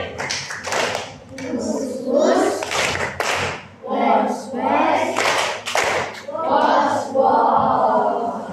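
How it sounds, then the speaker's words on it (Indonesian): Children in a classroom clap their hands in rhythm while chanting the tepuk melambai clap chant together, with sharp hand claps scattered among loud, close group voices. "Tepuk melambai."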